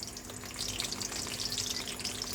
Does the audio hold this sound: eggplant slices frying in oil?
yes